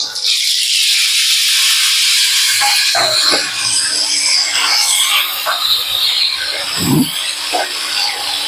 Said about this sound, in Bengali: এবার আমি একে একে দেখো সেই সব সবজিগুলোকে ঢেলে দিচ্ছি আমি সব সবজি একসাথেই দিয়ে দিচ্ছি